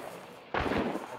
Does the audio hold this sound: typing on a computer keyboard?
no